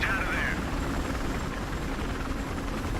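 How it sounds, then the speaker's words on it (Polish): A helicopter's rotor thrums steadily in the background with a brief higher whine at the start, fairly faint under some game sounds in Battlefield: Hardline. "Helikopter będzie lecieć niedługo."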